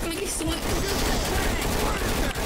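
Dense, continuous gunfire fills a Left 4 Dead 2 firefight, heavy overlapping shots sustained throughout at high volume, with a voice talking over the shooting.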